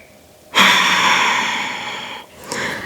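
One long, loud breath, heard close, is drawn and then released during a yoga shoulder stand and fades away slowly, followed by the start of a second, softer breath.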